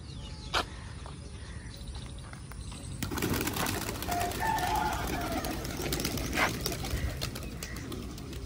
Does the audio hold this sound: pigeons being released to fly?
yes